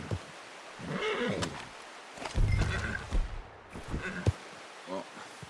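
A horse in Red Dead Redemption 2 whinnies and snorts amid game sound effects and low rumbles, with a few breathy neighs spread over several seconds.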